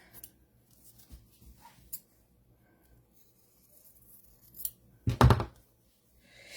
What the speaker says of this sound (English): Now we're just going to cut out our piece just like before.